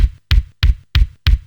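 LinnDrum drum machine kick drum played five times in a steady, evenly spaced pulse, each hit punchy and deep with a bright click attack and a short decay, loud and dry.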